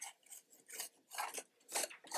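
A scraper pushes grease across the grates of a Recteq Bullseye RT-B380 pellet grill in five short, rhythmic rasping strokes, close and fairly quiet.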